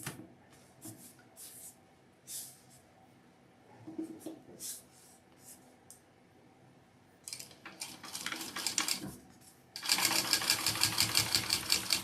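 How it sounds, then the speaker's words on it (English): A sewing machine runs a full-allowance seam in several short stop-start bursts, then a longer, louder steady run of stitching near the end, with light handling clatter between runs. "you are going to sew that on full seam allowance"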